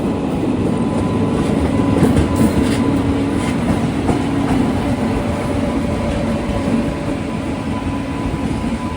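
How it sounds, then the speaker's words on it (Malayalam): Howrah–New Delhi Duronto Express passing through Ghaziabad station behind a WP7 electric locomotive, a loud continuous rumble of coaches with rhythmic wheel clatter over the rail joints, close by and steady throughout, with no voices. "ഈ ഒരു ട്രെയിനും കൂടെ വരുന്നത് കാണാം."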